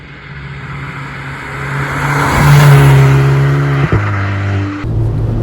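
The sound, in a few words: VW Polo GTI engine induction noise and turbo chatter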